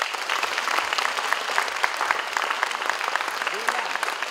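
An audience in Odessa gives sustained, lively applause welcoming film director Krzysztof Zanussi, the dense clapping loud and even throughout, with a brief voice near the end.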